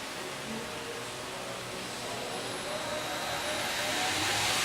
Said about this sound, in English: Let's start the saws here on the screen.